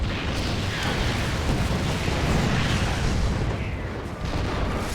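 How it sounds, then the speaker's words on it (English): Siege tanks shelling a bunker in StarCraft 2, a dense continuous rumble of heavy booming explosions without distinct separate shots. "Just barely have the vision to start shelling away at that bunker."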